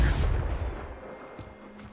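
A Confringo fire spell detonates in Hogwarts Legacy, a loud booming blast at the start that rumbles and decays over about two seconds, with a few faint crackles in the tail.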